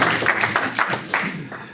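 Church congregation applauding at an evening worship gathering: steady, dense clapping from many hands with rhythmic surges, loud and continuous throughout the short stretch.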